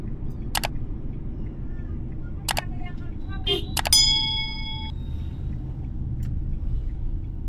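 Car driving at night on low beam, a steady low road rumble from inside the cabin with a few sharp clicks and a brief chime over it.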